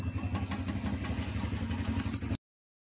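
A Vespa scooter engine, newly fitted into the scooter's body, runs with a steady low putter and a rattly mechanical clatter, revving slightly louder near the end before the sound cuts off abruptly.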